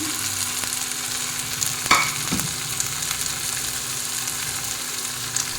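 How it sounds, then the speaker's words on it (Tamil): Cluster beans fry in a pan for lentil usili as spice masala is tipped in and stirred, a constant close sizzle with scraping spoon strokes and a couple of brief louder clatters, no voices. "இப்போ நான் எடுத்து வச்சுருக்க மசாலா எல்லாம் போடுறேன்"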